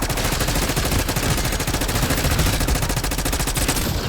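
Frag grenade blast and heavy gunfire in Black Ops 6 Zombies, a dense, loud, continuous barrage of rapid shots and explosive bursts filling the whole stretch with no talk.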